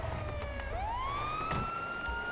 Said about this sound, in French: Sirène, sirène, sirène